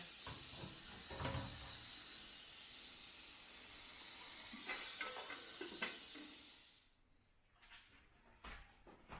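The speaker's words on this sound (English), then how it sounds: "steam clean everything that's in my house, my guest house, and everything else with my portable steamer" A portable steam cleaner hissing loudly and continuously at close range in a house, then cutting off, leaving faint handling knocks and clicks.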